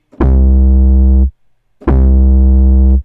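Two long, deep synthesized 808 bass notes at middle C, each held about a second with a hard attack and abrupt cutoff, separated by a short silence.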